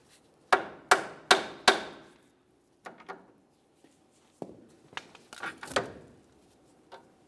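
A hammer striking the steering knuckle of a 1998-2011 Ford Ranger to free the outer tie rod end, four sharp metallic blows in quick succession followed by scattered lighter taps and clanks, close by.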